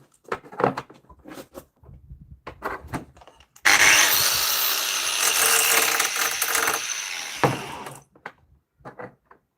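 Power tool grinding 304 stainless steel in a workshop, a loud continuous abrasive whine lasting about four seconds, set between brief clanks, taps and handling noises before and after.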